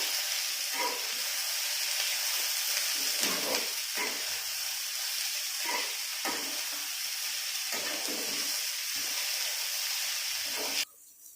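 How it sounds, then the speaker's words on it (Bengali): Chopped onions frying in oil for Mughlai paratha, a continuous hissing sizzle with regular stirring bursts every second or so, close by, cutting off abruptly near the end. "আমি তার সঙ্গে পেঁয়াজ কুচিগুলো দিয়ে দিচ্ছি, ভালো করে আমি ভেজে নেব।"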